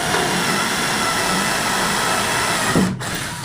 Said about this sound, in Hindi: अब इससे ड्रिल करके देखते हैं एक बार।